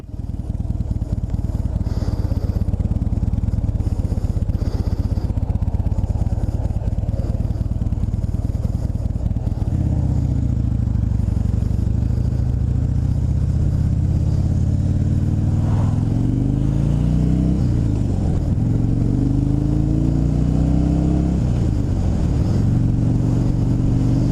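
A 2016 Harley-Davidson Dyna Low Rider FXDL motorcycle runs on a test ride with a loud, deep, steady engine rumble. It shifts pitch partway through, then revs rise and fall as it accelerates and shifts gears, with no talk over it.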